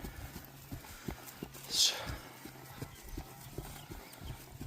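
Steady, rhythmic clip-clop of a mare's hooves on hard ground, close by, with a brief higher noise partway through.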